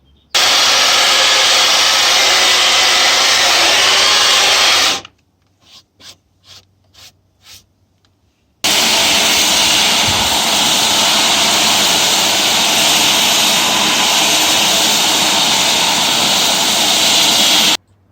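WerkMaster RASP and Gator deck refinishing machines with counter-rotating heads run with a loud, steady broadband roar, cut off for a few seconds by brief bursts, then resume at full, constant volume close by.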